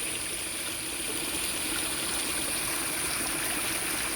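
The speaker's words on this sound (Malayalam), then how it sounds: "ഒഴുക്ക് തിരിച്ചു വിട്ടിരിക്കുന്നതാണ് ഇവിടെ നമുക്ക് വെള്ളം എത്തിച്ചേരുന്നതാണ്" Stream water rushing across a rural plot near cardamom plantations: a steady, dense, even wash of flowing water that continues without a break, with no voices.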